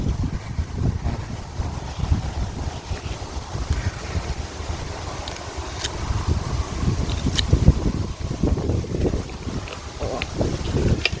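Strong wind roars outdoors near a wild giant honeybee colony, buffeting the microphone with steady, loud low rumbling gusts throughout.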